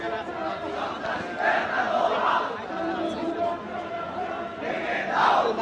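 Crowd of Shibir activists on a protest march in Dhaka chants slogans in rising and falling waves, a dense mass of voices rolling steadily throughout, swelling louder near the start and again toward the end.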